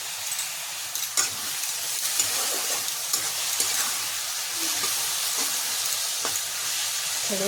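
Masala with tomatoes fries in a pan: a steady close sizzle with occasional stirring scrapes and soft pops, continuous and fairly loud, with no talking.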